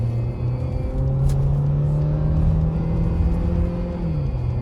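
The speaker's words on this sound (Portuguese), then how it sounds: "Olha a diferença do barulho do carro agora aí, ó." Ford Fusion engine revving after a repair of an engine noise, a steady loud rumble with a humming drone that rises slightly, heard up close with no talking.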